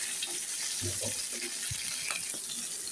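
Shrimp coated in turmeric fry in hot oil with a continuous crackling sizzle, a few soft knocks and stirring sounds in the foreground, and no talking.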